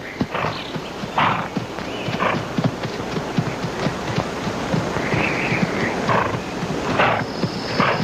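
A horse clatters with rapid, irregular hoofbeats on hard ground, fairly close and loud, with a brief drawn-out whinny-like cry partway through and a steady windy background, no speech.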